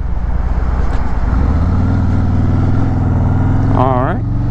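A Harley-Davidson Road King Special motorcycle with floorboards rides through a corner, its engine a loud, steady low rumble that holds throughout, with a brief rising rev near the end.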